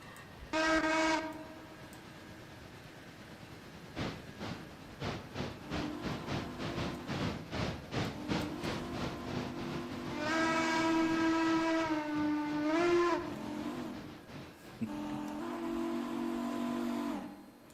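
A Berkshire steam locomotive in the railroad game Railroader, its whistle sounding in a short blast, then rhythmic chuffing building steadily, followed by longer wailing whistle blows over the working engine, moderately loud and alone.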